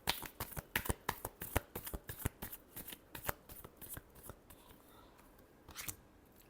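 Close, quiet shuffling of a tarot deck: a quick series of crisp card flicks and riffles that thin out toward the end, with no voices.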